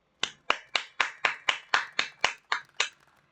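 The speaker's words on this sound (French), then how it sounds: "On applaudit Tante May" Applause for Aunt May in Marvel's Spider-Man video game, heard as a slow, even series of about eleven sharp claps, evenly spaced and close, alone with no talk.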